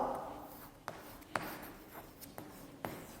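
A teacher writing an application letter in a classroom, soft pen or chalk strokes with a few sharper taps at irregular intervals, quiet and close.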